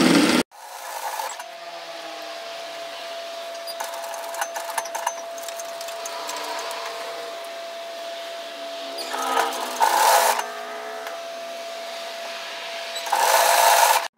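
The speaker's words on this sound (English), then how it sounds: "And now just continue stitching up through the underarm and back to the wrist." Sewing machine stitching a shacket sleeve up through the underarm to the wrist: a close, steady motor whir that runs almost without a break, swelling slightly in a few spots.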